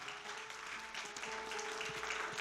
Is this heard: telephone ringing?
no